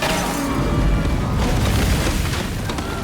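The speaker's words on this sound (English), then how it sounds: "Grenade launcher!" A heavy, booming grenade launcher explosion in a Planet of the Apes film, a dense roar that fills the whole stretch loudly with little break.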